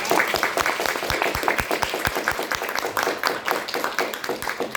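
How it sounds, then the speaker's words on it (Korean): Applause from the audience at a student debate event, heard as a steady run of separate, fairly close hand claps from a modest crowd with no talking. "각자 모두에게 큰 박수로 마무리하도록 하겠습니다"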